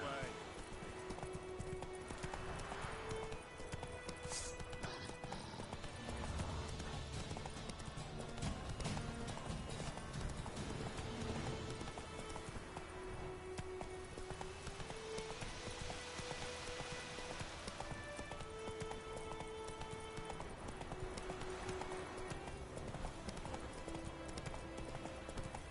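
Roach the horse in The Witcher 3 moves at a steady clip-clop under rain and game music, the hoofbeats rhythmic and fairly close, with a voice speaking over them at times.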